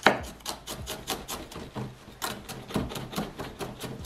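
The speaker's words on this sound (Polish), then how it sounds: "Następnie czosnek, czy ząbki czosnku siekamy również bardzo drobno." A knife finely chops garlic cloves on a board, making a close, steady series of crisp taps with one sharper hit at the start and no talking.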